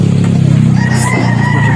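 Rooster crowing once, loud and close, a strong sustained call with clucking fowl around it and no talk.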